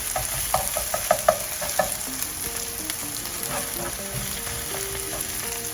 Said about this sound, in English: So we need to watch these onions so they don't start burning.